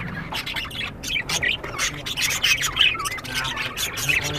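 Many birds squawk and chirp together in a dense, continuous chorus, loud and close, with overlapping calls and no clear pauses.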